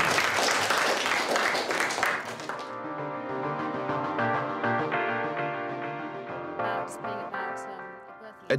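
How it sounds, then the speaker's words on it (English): Dense audience applause after a poem recitation fills the first few seconds, then cuts off as tonal music takes over and plays on alone. "Round of applause."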